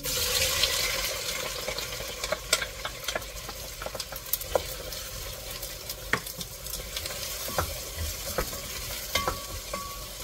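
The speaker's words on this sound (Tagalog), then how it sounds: "So, mainit na. Lagay natin ang onion." Onion goes into hot oil in a pan while cooking chicken biryani, producing a continuous crackling sizzle with scattered sharp pops and clicks of stirring, close up and fairly loud, no voices.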